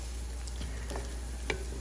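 Onions and Thai chilies fry in half a cup of oil, giving a steady, even sizzle throughout with a few faint ticks and stirring clicks on top.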